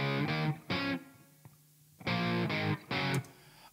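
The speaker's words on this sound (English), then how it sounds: "The distorted guitar could be interesting as well." Loud, heavily distorted electric guitar chords come in short sustained bursts, two near the start and three later, with a quiet gap between.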